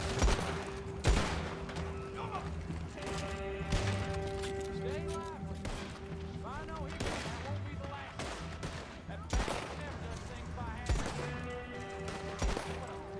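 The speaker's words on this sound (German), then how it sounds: "Ich glaube, ich schieß gegen das Fenster" Gunfire rattles in a Red Dead Online shootout aimed at a window, with repeated shots and bursts sounding loud and close. Voices and game dialogue run over and between the shots.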